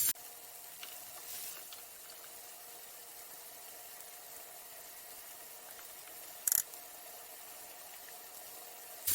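Shrimp and garlic frying in a pan, a soft, steady sizzle heard alone, with a sharp clatter near the end.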